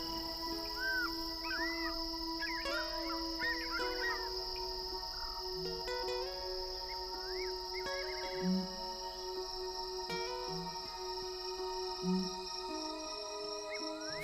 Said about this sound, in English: Eagles roost just as the fishing owls sound their booming calls.